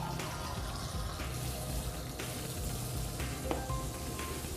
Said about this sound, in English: First, we'll take a sample of normal tap water.